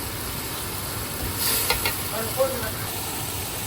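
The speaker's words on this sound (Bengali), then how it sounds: "আর এখন আমি সব মশলাগুলোকে খুব ভালোভাবে কষিয়ে নেব" Cumin powder and other spices sautéing in a pan while cooking Afghani pulao, a soft steady sizzle and hiss with faint stirring scrapes, close and fairly quiet.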